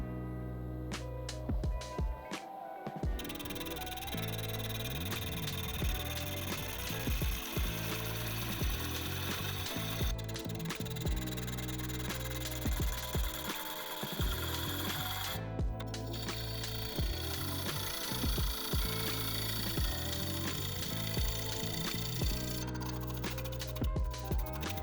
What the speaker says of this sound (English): we're going to rough turn the outside of this green bowl with the wood beater